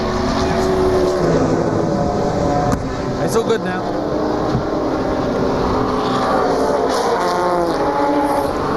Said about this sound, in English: That is a 4-rotor Mazda engine.